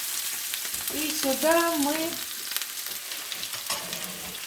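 Crucian carp from Yakutia frying in a pan, a steady close sizzle with stirring sounds, while someone talks briefly over it.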